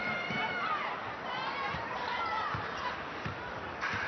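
A stunned crowd at a France versus China women's Olympic qualifying basketball game in an arena holds to a low, steady murmur, with scattered distant voices and faint court thuds beneath continuous commentary.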